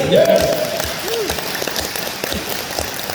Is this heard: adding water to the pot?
no